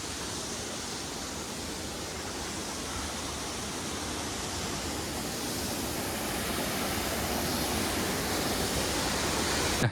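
Two waterfalls beside Kondeshwar temple near Badlapur pour steadily, a dense, even rush of falling water that swells slightly louder toward the end, with no voices.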